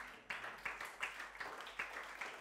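A church congregation at a GPdI Obaja service claps faintly, a short, sparse scattering of hand claps in uneven bursts within a reverberant hall.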